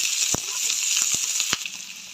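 Chopped green chillies sizzle in hot oil with browned onions for a daal tadka, a dense steady frying hiss broken by a few sharp pops and crackles.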